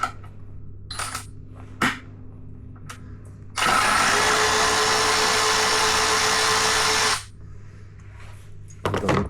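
Power tool works loose parts on a 2022 BMW S1000RR motorcycle: a few faint clicks and knocks, then a loud steady whirring run of about four seconds before stopping, with more handling noises after.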